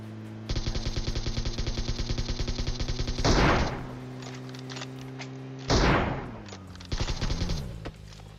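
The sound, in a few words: gunfire in a video game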